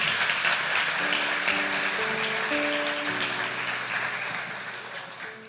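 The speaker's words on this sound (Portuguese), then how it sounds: "Palmas para ele." Applause from a church congregation for a participant at a theology series service, a continuous dense clapping wash that gradually fades, with faint sustained instrumental tones underneath.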